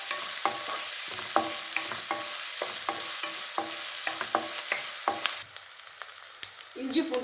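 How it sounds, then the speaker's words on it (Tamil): Large onions sautéing lightly in a pan with oil for a white kuruma, a steady sizzle broken by repeated scrapes and clicks of a spoon stirring, close and alone without talk. "பெரிய வெங்காயம், லேசாக வதக்கிக்கணும்."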